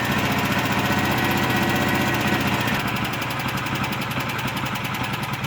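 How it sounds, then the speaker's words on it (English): A backup home generator engine runs steadily and loud with its fuel shut off, burning the carburetor bowl dry; the drone is continuous with a slight shift in tone partway through, nearing the point of sputtering out. "I shut the fuel off to my generator, and I'm going to let it go ahead and run the carburetor bowl dry."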